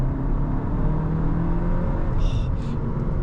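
The 4-cylinder engine of a Cupra Leon ST VZ, ABT-tuned to 400 horsepower, pulls in race mode with a deep, steady drone and low rumble. It holds loud and constant throughout, with a faint whir on top.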